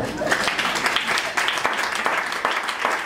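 A church congregation applauds steadily for the Lord through the whole stretch, a dense, loud wash of clapping with voices calling out beneath it.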